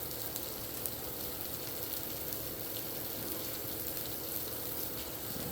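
Onions tossed into a hot pan crackle in a steady, faint, rain-like sizzle that holds evenly the whole time, with a few small pops and no talking.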